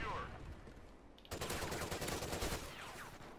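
Rapid automatic gunfire in the multiplayer shooter Call of Duty Ghosts, bursting in loud and close after a quieter moment and continuing as dense crackling shots, with faint game ambience beforehand.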